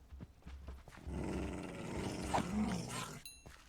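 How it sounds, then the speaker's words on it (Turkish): Minecraft wolves growling and fighting, a rough bout of snarls and low roaring growls over a few seconds, moderately loud and close, with no voices. "Köpekler birbirlerine girdi galiba."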